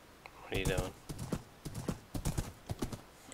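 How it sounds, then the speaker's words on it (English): In Minecraft, a horse snorts and whinnies, then prances with a quick run of hollow clip-clop hoof steps, fairly close, while a voice talks over part of it. "when the horse does its little prance thing to stop you, it's kind of annoying"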